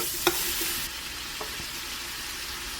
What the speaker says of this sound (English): We're going to cook these until our peppers and onions become a little bit tender.